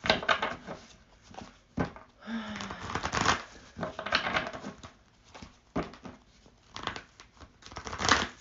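Tarot cards being shuffled by hand, with repeated soft riffling and papery slides in uneven bursts separated by short pauses, close and fairly quiet, with a faint voice in the background.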